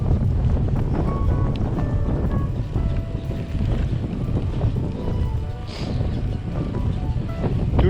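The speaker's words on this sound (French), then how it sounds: "Toujours le vent dans la gueule." Heavy headwind roars into the microphone of a cyclist riding a bike path from Mimizan toward Sabres, a continuous loud, buffeting low rush with no talk.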